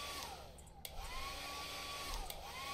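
A hair dryer being picked up in the co-op horror scavenging game Lethal Company, giving a steady whirring blow that holds at an even level for the whole stretch, with a few faint clicks and thumps laid over it.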